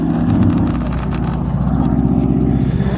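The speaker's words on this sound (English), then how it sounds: "Now he's going to sneak off into the distance for a little bit here and reposition his aircraft." A World War II vintage propeller aircraft drones steadily at an air show, a loud continuous engine hum as it repositions in the distance, with no talk.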